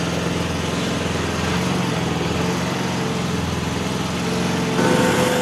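A Chinese SDLRR200 road roller engine runs steadily and close by, a continuous mechanical drone that swells slightly louder near the end, with no talking.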